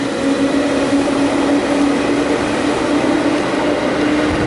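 A loud, steady train rumble fills the space, with a continuous low drone and broadband rolling noise from inside a moving carriage on a train bound for Tarumi, Japan.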